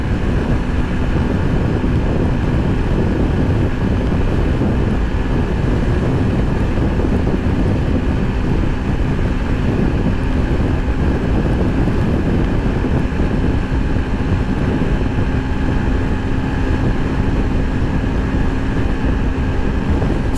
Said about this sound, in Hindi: अब इंजन बहुत ज़्यादा आवाज़ करने लग गया। And fifth gear top speed